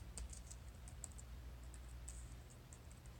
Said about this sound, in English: I'm typing with one hand under my phone,